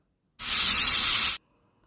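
A pressure cooker cooking chana with baking soda vents steam in one loud, close hiss about a second long, starting and stopping abruptly.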